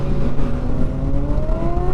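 A Yamaha FZ1 or R6 motorcycle pulling hard in first gear, the engine note climbing steadily in pitch as it revs up, loud and close throughout.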